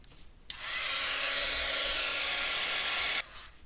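A heat tool blows a steady, loud whooshing hiss for about three seconds, drying freshly stamped ink, switched on and off abruptly with a faint click.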